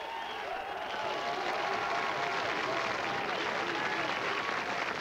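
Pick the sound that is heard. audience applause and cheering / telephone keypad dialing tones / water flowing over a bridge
audience applause and cheering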